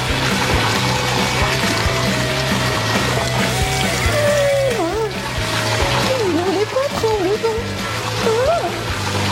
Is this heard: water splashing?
yes